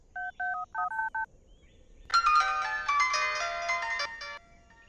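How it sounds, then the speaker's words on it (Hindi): A mobile phone ringtone rings loudly in a quiet setting, a bright multi-tone melody lasting a couple of seconds, preceded by a short run of keypad dialing tones. "उनके फोन पे रिंग जा रहा है।"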